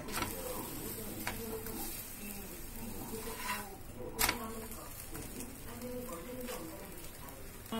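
An aloo paratha sizzles in butter on a hot pan, a soft, steady crackle that continues throughout, with one brief louder clatter partway through.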